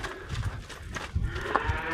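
Dairy cows lowing as they are let out to pasture, a few low moos close by over faint farmyard background, with no talk.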